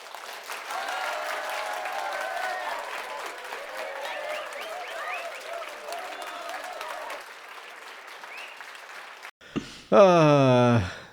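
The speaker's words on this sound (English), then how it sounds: "Let's have a round of applause for the Grey one." A round of applause from an audience fills most of the stretch, steady and moderately loud, then fades out before a brief, sharp rising voiced or tonal sound closes it.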